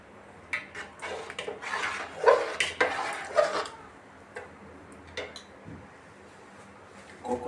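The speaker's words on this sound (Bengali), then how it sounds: "ভালো করে লেড়ে নেব, মিশিয়ে দেব।" Vegetable khichuri being stirred and mixed in a pot, with a series of soft scraping and clinking strokes clustered near the middle, separated by quieter gaps.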